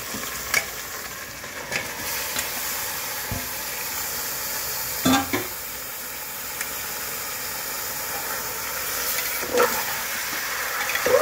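Mutton pieces fry in a pan with a continuous crackling sizzle, broken by several louder stirring clanks and scrapes at intervals.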